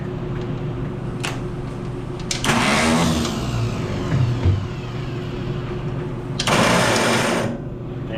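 Small gasoline engine of a 300 utility vehicle with a dribbling, faulty carburetor, idling steadily with a buzzing drone, with a couple of louder revving surges up close.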